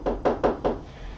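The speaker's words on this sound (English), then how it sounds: "It's kind of hard for somebody when you knock at a door." Four firm knocks rap on a door in a quick, evenly spaced sequence, close and distinct, followed by quiet.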